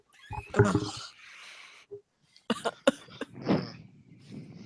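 A few scattered coughs and throat-clearing sounds close by, separated by short pauses and some rustling.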